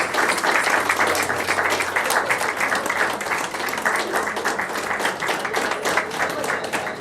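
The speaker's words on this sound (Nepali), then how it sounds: "ताली बजाउनेछौँ हामी" A congregation claps for pastors and leaders at a church ceremony in Nepal, dense sustained applause from many hands filling the room for several seconds, with faint voices mixed in.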